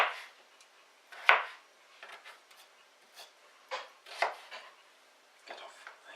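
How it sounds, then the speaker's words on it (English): Knife dicing a potato into small pieces on a board for broccoli and Stilton soup, heard as a scattering of sharp, separate chops at an irregular pace, with quiet gaps between them and no talking. "So just dicing up the potato to smallish pieces."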